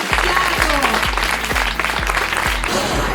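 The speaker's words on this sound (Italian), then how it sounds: "ma prima farei ancora un grande applauso a tutte le nostre miss di questa sera" Audience applause for beauty pageant contestants at an evening Miss selection event in a villa setting, a dense, loud, continuous clapping from a crowd filling the whole stretch, with a repeating low thump underneath.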